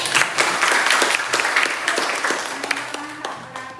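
A classroom of students claps at the end of a civics lesson. The sharp, uneven claps are close and fairly loud and slowly thin out, with faint voices underneath.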